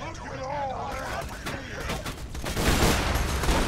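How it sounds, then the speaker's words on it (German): Gunfire rattles in the video game Borderlands 2, bursts of shots that grow denser and louder toward the end, with someone speaking over the opening moments. "Ich schieße."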